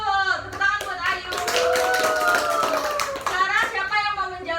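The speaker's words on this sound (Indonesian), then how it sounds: "Tepuk tangan buat Ayu." A classroom of children claps together in a close burst of rapid, overlapping hand claps, with children's voices calling and chanting over and through the applause.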